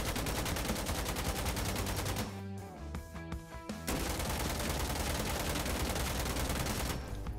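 AKM rifle firing full auto in Insurgency Sandstorm on console, a dense, steady stream of rapid shots that breaks off briefly near the middle and then resumes at full loudness.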